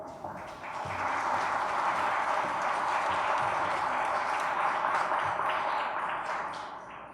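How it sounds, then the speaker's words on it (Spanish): Audience applause welcoming a speaker at a 2018 women's meeting on access to justice: a dense, steady wash of many hands clapping that swells in after a moment, holds loud for several seconds, then eases slightly at the end, with no talking. "Le damos la bienvenida con un fuerte aplauso."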